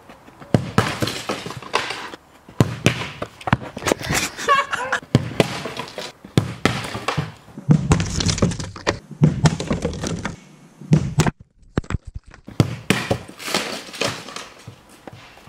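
A football is kicked repeatedly into a pane of security glass, giving sharp, loud thuds and cracking impacts spaced irregularly every second or so, with pauses between strikes and brief exclamations from a man.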